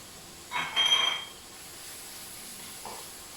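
Garlic cloves dropped into a hot pan for mushroom stroganoff give a sudden hissing sizzle that swells for about a second and then settles into a faint steady fry, close, with no voices.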